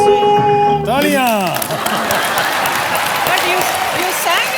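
A television studio audience on a game show breaks into clapping that swells and carries on as a dense, close wash of applause, with a sung melody fading out just before it starts.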